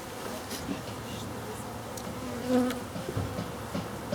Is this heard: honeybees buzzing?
yes